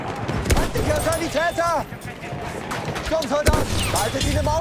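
Bolt action rifle fire in the video game Battlefield 1: a few sharp gunshots among other gunfire and game effects, loud and close, with someone talking over them.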